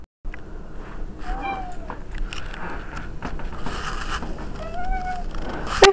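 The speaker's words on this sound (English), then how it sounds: "Cats do not belong on the counter." A cat meows on a kitchen counter, giving a couple of close, drawn-out cries over faint household background noise.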